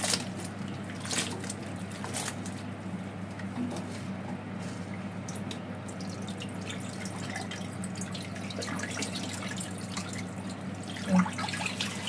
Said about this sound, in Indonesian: kemudian kita cuci ya